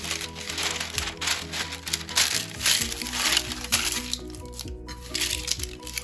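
Parchment paper crinkling and crackling as it is pressed into a greased baking tray, a close, continuous rustle with sharper crackles throughout.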